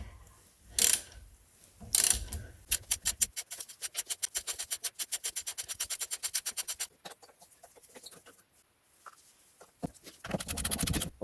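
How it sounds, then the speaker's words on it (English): A long hand ratchet with a 19mm socket turns a front suspension control arm bolt on a Mercedes W203 C-Class. Brief knocks come first, then a steady run of evenly spaced, crisp pawl clicks close by, followed by a few scattered mechanical taps. "I'm gonna have to use a regular long ratchet with a 19mm socket."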